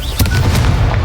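A Confringo blast spell explodes in Hogwarts Legacy, a loud booming burst with crackling rumble that fills the short moment.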